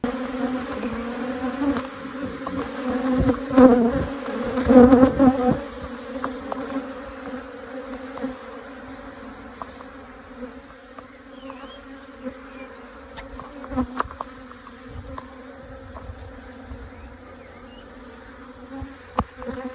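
Continuous droning hum of numerous bees, strongest early on then settling into a steady buzz, with occasional faint clicks.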